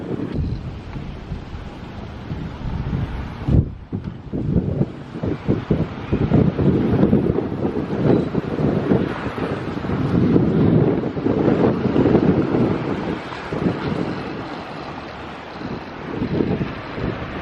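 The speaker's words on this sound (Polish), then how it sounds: "I wieje." Wind gusts buffeting the microphone on a Caribbean beach at Palomino, Colombia, a steady low roaring rush that swells and eases for the whole stretch with a brief dip early on, no speech.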